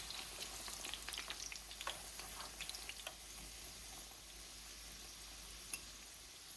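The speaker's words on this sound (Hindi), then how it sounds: "इन कबाबों को दोनों तरफ सुनहरी रंग आने तक पकाना है।" Chicken seekh kebabs frying in oil in a pan, a faint, steady sizzle with light crackling pops, quiet and close with no talking.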